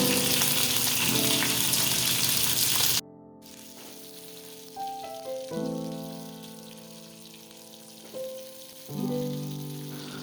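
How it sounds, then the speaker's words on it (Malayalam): Gooseberries dropped into hot oil with curry leaves and green chillies for a Kerala-style salted pickle, a loud broad sizzle that cuts out, then bursts of crackling and spitting in waves as the fruit hits the pan. "അതിനുശേഷം നമ്മൾ ഇതിലോട്ട് നെല്ലിക്ക ഇട്ട് കൊടുക്കാം."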